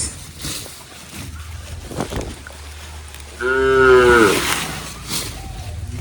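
A cow lets out one loud, drawn-out moo in the middle, rich and harmonic, with soft outdoor background noise and faint voices before and after.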